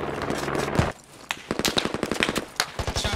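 Automatic gunfire from the video game Squad rattles in dense bursts, loud and continuous at first, then after a short lull comes a series of rapid, evenly spaced shots with sharper single cracks.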